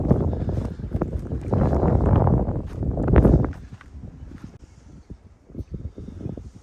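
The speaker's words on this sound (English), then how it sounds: "The wind's going along at a good pace." Gusty wind buffets the microphone beside a farm pond, loud and roaring for the first few seconds, then dropping to softer rustling with faint scattered knocks.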